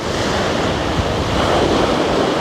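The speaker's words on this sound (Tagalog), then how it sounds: "Pero yung alon, grabe." Ocean surf rolls in at a Fiji island, a loud, dense and steady wash of breaking water mixed with wind rumble on the microphone, continuous for the whole short stretch with no voices.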